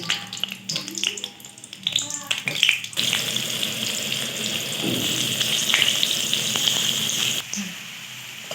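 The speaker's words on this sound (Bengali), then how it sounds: "আলুগুলো আমার ভাজা হয়ে গেছে, এবার আমি তুলে নেব।" Potato pieces, steamed with salt and turmeric, fry in the same leftover oil in a kadai. Scattered clatter gives way to a dense, continuous sizzle that holds for several seconds before easing near the end.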